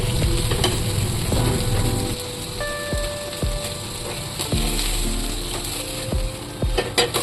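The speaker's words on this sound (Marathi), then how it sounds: "आता पॅन आपलं तापलेलं आहे त्याच्यामध्ये मी हे पापलेट सोडून देणार आहे" Pomfret fish sizzling in a hot pan for a green masala pomfret dish, a steady close frying hiss with scattered clicks and scrapes of a utensil turning the fish, no voices.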